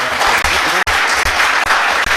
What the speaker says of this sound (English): I just want everyone to give a round of applause to our new council member, Gail Appler Jr.